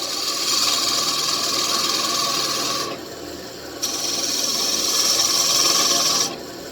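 A chisel scrapes wood spinning on a wood lathe as a small wooden ball is turned, giving a loud, steady rasping hiss in two long passes with a short pause between them.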